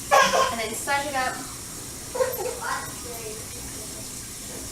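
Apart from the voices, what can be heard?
hot water running from sink tap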